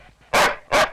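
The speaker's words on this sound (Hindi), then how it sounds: "कुत्ते हट हट" A dog barks twice in quick succession, close and loud, two sharp bursts with a short gap between them and no talking over them.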